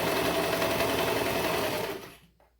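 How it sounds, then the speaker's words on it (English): A sewing machine stitches fabric layers for a high-low bell sleeve top, a fast loud rattling whir for about two seconds before it slows and stops. "I place my finger where it was and I just start sewing."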